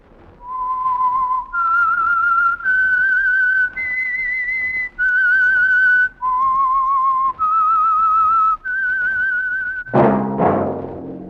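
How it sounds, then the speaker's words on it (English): A lone whistled theme melody opens The Whistler radio drama, a clear, close tune of about eight sustained notes in a steady phrase, ending with a brief burst of orchestral music. "That whistle is your signal for the Signal Oil program, The Whistler."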